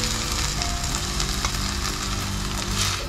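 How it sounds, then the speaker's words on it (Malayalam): Finely chopped tomato hits hot oil in a frying pan while lasagna is being cooked, giving a loud, continuous sizzle with faint stirring scrapes and a few soft clicks, close by. "ഒരു തക്കാളി ചെറുതായിട്ട് അരിഞ്ഞു വെച്ചത് നമ്മൾ ഇതിലേക്ക് ഇട്ട് കൊടുക്കുകയാണ്"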